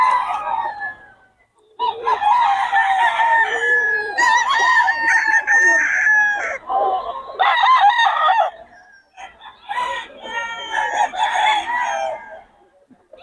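White Kelso gamefowl roosters crow one after another, loud and close, with overlapping calls and brief clucks between the crows.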